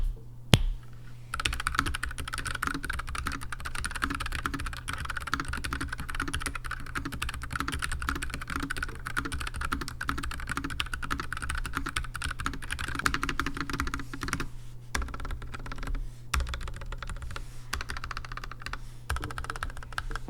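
Steady, fast typing on a slim low-profile mechanical keyboard, dense close-up key clicks running continuously with a brief pause near the end, no voices.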